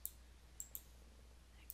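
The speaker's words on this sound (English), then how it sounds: "I'm just right-clicking to get to the copy screen" Several sharp computer mouse right-clicks, two close together then one more after a pause and a final click, quiet and isolated against a faint steady hum in an office setting while building a spreadsheet.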